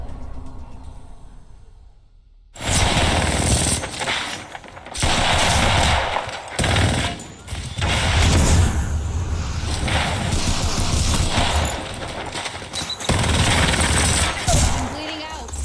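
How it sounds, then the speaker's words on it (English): Gunfire in a shooter video game comes as loud, sustained automatic bursts with brief gaps between them, mixed with a player's voice. "Who is shooting me? Why are two people shooting me?"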